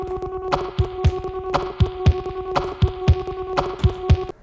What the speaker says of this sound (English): now adding in the traditional percussive hits on the guitar in order to get some drum sounds happening